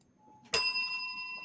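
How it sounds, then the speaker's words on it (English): A bell is struck once, a bright sharp ding that rings on with a clear sustained tone and slowly fades, heard on its own and fairly close. "Ring that bell, Billy."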